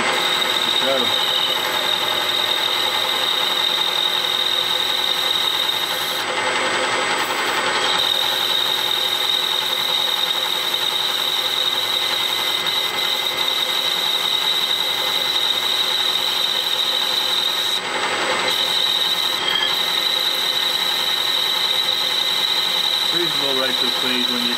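A metal lathe parting off aluminium stock for a 24-inch telescope mirror mount, with coolant applied: a steady mechanical whine and drone with a persistent high tone, continuous and close, briefly shifting in two short bursts.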